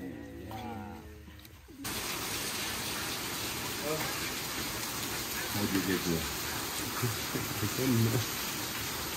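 Steady broadband rain hiss falls outdoors during a rain delay at a disc golf round, starting abruptly after brief talk and continuing loud and even, with a few faint bird-like chirps on top.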